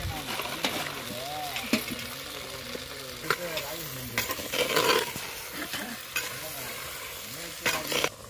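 Eggplant and potato pieces sautéing in oil for a homemade masala kuzhambu, a steady close sizzle with repeated scraping stir strokes throughout.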